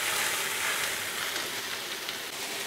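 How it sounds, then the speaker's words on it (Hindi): Potatoes and soybean chunks fry in a pan over a medium gas flame, giving a steady, even sizzle that carries on throughout with no talking. "आलू और सोयाबीन को हम 4 से 5 मिनट फ्राई करेंगे, जब तक हल्का कलर चेंज ना हो जाए।"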